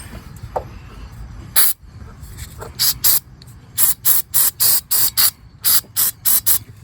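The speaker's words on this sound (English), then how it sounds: "We're just going to spray these little wires here off a little." Short bursts of throttle body cleaner spraying onto wires on a 2006 Buick Lucerne, hissing close by, about a dozen quick blasts in an uneven rhythm after a longer opening spray, with light background rumble.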